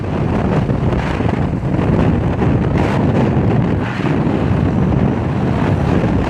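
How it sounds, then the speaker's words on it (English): Heavy, constant wind roar buffets a cyclist's microphone while riding into a headwind at about 22 mph during a Belize cycling race, a dense unbroken rush with no speech over it. "we're doing 22 miles an hour in the headwind"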